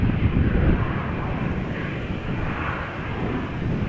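Embraer E2 jet taxiing toward the runway threshold at Amsterdam Schiphol Airport, a steady broadband engine roar with a low rumble, moderately loud and continuous, slightly swelling at the start and end, with wind noise on the microphone.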